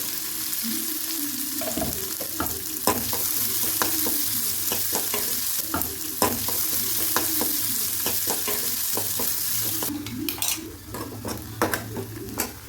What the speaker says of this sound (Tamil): அதுக்கப்புறம் ஒரு பெரிய வெங்காயம் பொடியாக நறுக்கினது